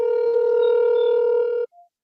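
A phone call's dialing tone played over speakerphone, one long steady ringback tone followed by a brief faint beep, heard alone.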